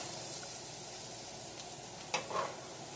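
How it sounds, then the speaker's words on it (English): Mirepoix cooking down in a pot for pot roast, a soft steady sizzle with a brief stir or clink near the end, moderately quiet and without talk. "Got our mirepoix cooking down."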